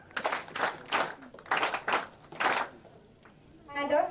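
A workshop audience claps together in a patterned rhythm, with roughly seven sharp group bursts of clapping in quick sequence, followed by a brief pause and a faint voice.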